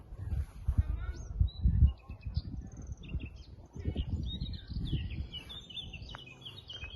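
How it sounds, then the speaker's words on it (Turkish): Scattered high bird chirps and short calls in a hobby garden with a grapevine, over a low rumble of nearby movement and handling noise, with the birds fairly faint in the background. "Kuşların seslerini duyuyor musunuz?"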